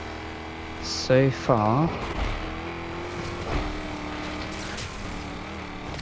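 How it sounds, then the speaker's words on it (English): A Lamborghini Murcielago in an endurance race video game gives a loud, close engine roar that rises sharply through revs and then settles into a sustained drone. Someone talks over it. "This car sounds amazing though"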